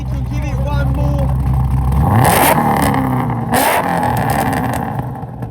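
Supercharged 850 hp Holden VF2 Commodore SSV Redline sedan, E85-capable, revving hard nearby, a loud sustained roar climbing in pitch then surging again, with brief voices in the background.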